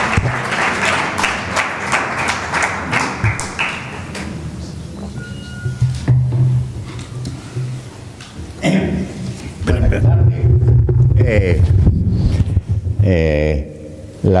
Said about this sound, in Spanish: Démosle un aplauso por el regalo poético que hoy nos brinda en Bodegas Vivanco